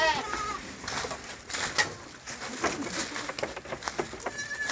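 Goats and young kids on a goat farm in Nepal bleat intermittently amid a busy, noisy outdoor background, the calls fairly close and mixed with other animal and ambient sounds.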